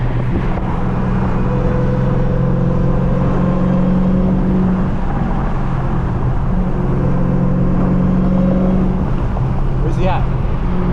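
A 1000 hp Dodge Hellcat Redeye driving at night, a loud continuous low engine drone and cabin rumble with rising and falling tones as it pulls, heard from inside the car.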